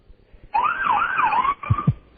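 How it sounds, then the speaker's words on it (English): Police car siren wails close and loud, a single rising and falling tone lasting about a second, then a few low thumps after it stops. "you got to turn the siren on"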